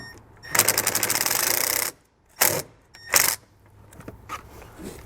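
A ratchet fitted with a 10 mm socket works loose a plastic taillight fastener on a Jeep. It gives one long burst of rapid close clicking, then two short bursts and a few softer ticks.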